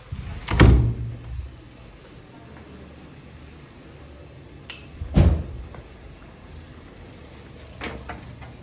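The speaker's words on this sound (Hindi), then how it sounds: "दरवाजा बंद कर दे।" A door in a home is pushed shut, giving a dull thump near the start and a second heavier bang around the middle, with faint room noise and small knocks between.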